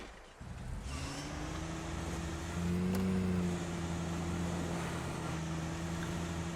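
Game car from Call of the Wild: The Angler driving along a road, its steady low engine hum holding continuously, swelling briefly louder midway, then settling back to an even drone.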